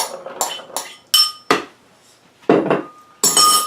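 Dry chickpeas tumbling into a food processor bowl, heard as a series of sharp clattering clinks and rattling bursts, about six separate pours spread over a few seconds, close and fairly loud, with no talking.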